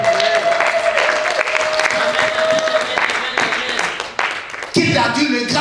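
Church congregation cheering, shouting for joy and applauding God at a worship service, a dense roar of clapping and voices with a steady held tone underneath, then a brief dip before the crowd noise swells back.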